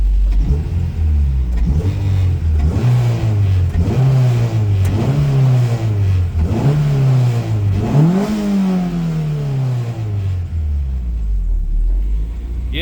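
A Mini fitted with a Honda VTEC engine revs repeatedly while driving, each rise in engine pitch followed by a drop, building to a longer, higher climb; the engine note is loud and close, with no voices.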